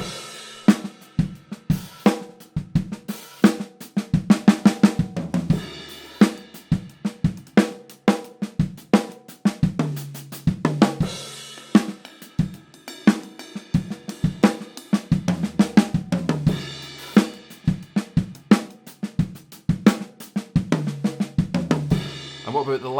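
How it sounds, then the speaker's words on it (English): A drum fill with its opening note on the kick drum, played in a drum lesson. A rapid run of sharp hits lasts throughout, with deep thumps among brighter drum and cymbal strikes, loud and up close with no talking. "What about if we played the first note on the kick drum?"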